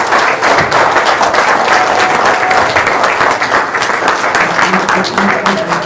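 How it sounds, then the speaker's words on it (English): An audience at a real estate investor event claps loudly and continuously, a dense, even wash of applause lasting several seconds. "Would you please give a round of applause to Reggie so he gets that energy coming in over there."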